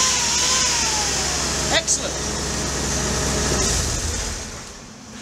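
A Bentley V8 engine running on LPG drives a three-phase generator, holding a steady, even drone throughout while someone speaks briefly over it.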